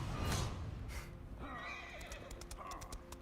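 Horse neighs and whinnies from the horse rider hero in For Honor gameplay, a loud whinny up front followed by clip-clop hoofbeats and snorting amid game combat sounds.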